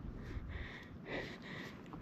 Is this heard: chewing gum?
no